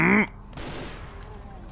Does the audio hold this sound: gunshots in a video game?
yes